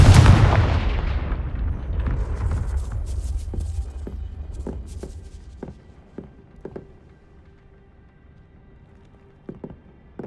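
Confringo fire spell explosion in the video game Hogwarts Legacy, a loud, close boom that rumbles and fades over several seconds, followed by scattered sharp clicks and debris taps in a quieter scene.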